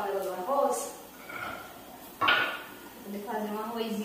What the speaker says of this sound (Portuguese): Vou até colocar a panela do arroz